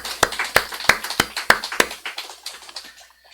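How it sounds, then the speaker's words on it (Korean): A church congregation at a founding thanksgiving service claps in loud, rhythmic unison about six times, then the applause breaks into scattered, softer claps that fade away. "큰 박수로 다시 한번 환영해 주시고 축하해 주시길 바랍니다"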